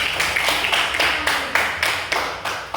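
A classroom of students claps hands in unison, a series of about ten sharp rhythmic claps at a steady brisk pace, fairly close and clear with no talking.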